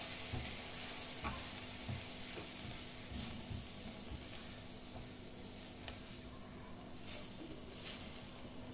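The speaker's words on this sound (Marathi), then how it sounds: "हा टाकून थोडस आपण परतून घ्यायचंय कांदा परत" Onion frying with Goan garam masala in a pan over a medium flame, a soft steady sizzle with intermittent spoon scrapes and taps, fairly quiet and close.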